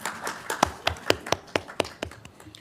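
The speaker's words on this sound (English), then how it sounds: "So everybody give her a round of applause" A meeting audience claps at a water commission session, with scattered hand claps in an uneven, sparse rhythm that peaks and fades over a couple of seconds, fairly faint and a bit distant.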